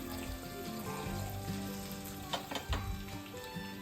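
Fresh coriander sizzles gently in hot oil in a pan, added to the tempering for pulihora after the gas is switched off, a steady soft crackle with a few light clinks of a spoon near the end.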